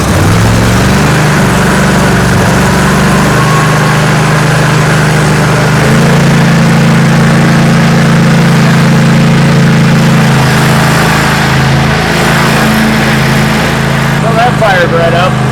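After a battery replacement meant to cure ignition trouble, an engine fires up and settles into a loud, steady, rumbling idle that runs throughout.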